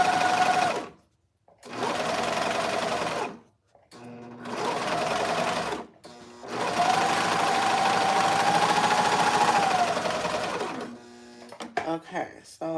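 Domestic sewing machine backstitching fabric for high-waist bottoms, several bursts of fast whirring stitching separated by short pauses, close and clear, followed by a few clicks and handling sounds.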